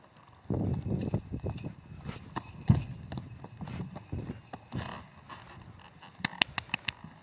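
Rhythmic jingling and clinking of small metal ornaments on a dancer's belt, with soft thuds like dance steps, at a Polish festival. A quick burst of bright jingles comes near the end.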